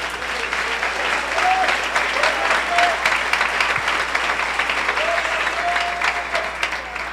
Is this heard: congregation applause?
yes